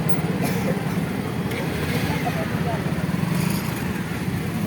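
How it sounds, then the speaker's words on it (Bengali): Congested road traffic in a jam, a steady wash of car, bus and motorcycle engines idling and creeping close by, with a continuous mid-level rumble throughout. "এরকম জ্যামের মধ্যে ফেসে গেছি।"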